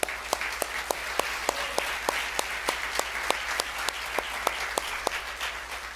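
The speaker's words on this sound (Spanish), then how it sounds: "Vamos a darle un aplauso al Señor." Church congregation applauding after prayer, a dense steady patter of many hands clapping with regular sharp accents from nearby clappers, continuing for several seconds with no talk.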